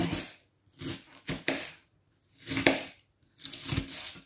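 A knife slices through a vegetable on a cutting board while preparing spaghetti bolognese, giving four separate crunchy cuts with quiet pauses between them, close and with no voices.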